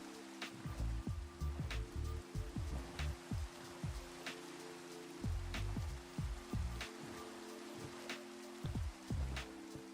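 Rain in Minecraft patters steadily on a surface with irregular drips landing throughout, soft and close, with no voices.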